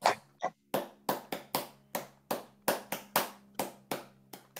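Sharp single hand claps during a pranayam breathing exercise, about a dozen distinct loud claps in a steady rhythm, close and alone, with a low hum beneath.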